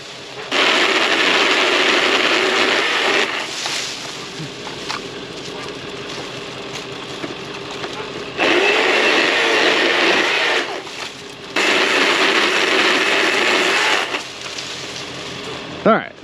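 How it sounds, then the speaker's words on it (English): A small chainsaw cutting tree branches whines loudly in several long bursts, dropping to quieter idling between cuts, with occasional voices in the background. "We're gonna take the chainsaw head here and we will attach this on."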